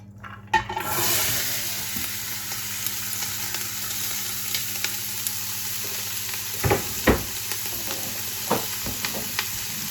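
Carrots and onions sizzle and crackle in hot olive oil in a pan, a loud burst of frying at the start settling into a steady hiss with scattered pops and stirring scrapes.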